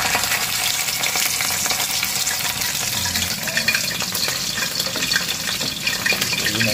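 Smoked fish (tinapa) sizzles and crackles steadily in hot oil, a loud, dense frying hiss close by with no talking.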